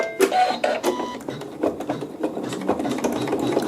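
A sewing machine stitching wool at a slow speed, a steady mechanical rattle of rapid needle strokes with small pauses and shifts in pace, close and alone without talk.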